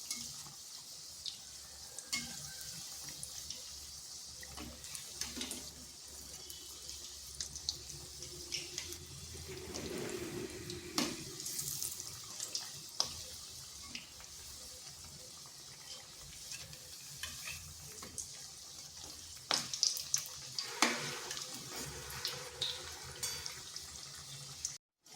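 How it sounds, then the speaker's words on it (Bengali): Crispy spinach pakoras frying in hot oil and being turned and stirred, a soft continuous sizzle broken by scattered scraping and clattering of a spoon, fairly quiet and close, no talking. "তো এইভাবে নেড়ে চেড়ে এগুলো ভেজে নিয়েছি।"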